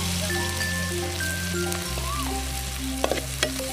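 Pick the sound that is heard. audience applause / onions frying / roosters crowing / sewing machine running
onions frying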